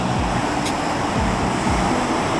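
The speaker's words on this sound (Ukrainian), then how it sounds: "Океан якийсь такий сильний, що навіть страшно не нього зайти." Strong Atlantic Ocean surf off Tenerife roars steadily, a continuous heavy wash of waves with wind noise blowing across the microphone.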